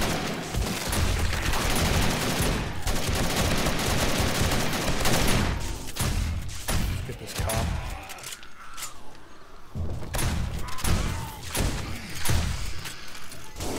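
Shotgun turret in 7 Days to Die blasting away during a nighttime zombie horde in the War3zuk mod, a dense, continuous barrage of loud gunfire with heavy thumps and clatter, rhythm broken by brief lulls, no talking.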